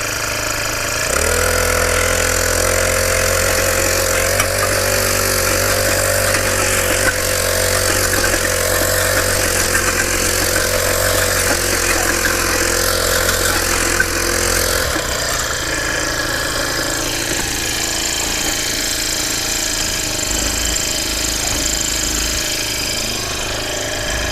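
A Mantis tiller engine runs loud and close while breaking up hard, rocky soil, a continuous rough mid-pitched roar with rattling knocks that shifts in tone partway through as the tines bite into the ground.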